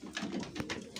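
Pigeons coo softly in short throaty bursts, close and quiet, with no talk over them.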